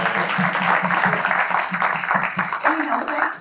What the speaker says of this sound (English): Could we give a round of applause to our videographer?